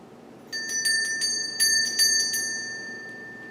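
Mindfulness bell struck at a meditation session: a clear, bright ring with a long sustained shimmering tone, accompanied by several lighter repeated chimes, decaying slowly in a quiet room.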